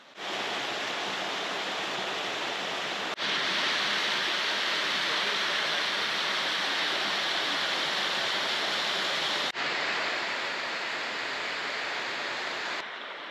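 The River Swale flows past a waterfall near Keld in Swaledale, producing a loud, steady, close roar of rushing water that runs unbroken throughout, with no voices.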